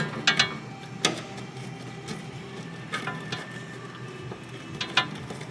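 Small metallic clicks and ratcheting taps as a brake hose is connected and tightened on a Volvo, faint and close, scattered over a quiet background.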